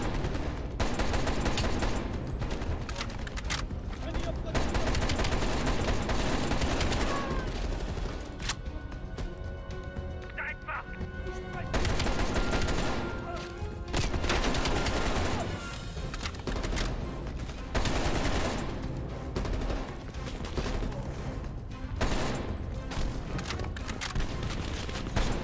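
Call of Duty gunfire roars in long sustained bursts of automatic fire, loud and dense, broken by short quieter gaps and a few heavy booms.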